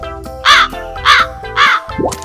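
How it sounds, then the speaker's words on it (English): Three loud, harsh crow caws repeat at an even pace, each clear and close, followed by a shorter, softer call, with a steady musical backing underneath. "Crow is black."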